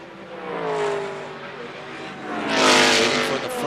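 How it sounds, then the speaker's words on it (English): Race cars tear around Daytona during the Rolex 24 Hours, lapping a slow sports racer on lap two, a loud continuous roar that swells as one car passes close and fades, then builds again toward the end. "I think it's a very slow sports racer that they're going around right now."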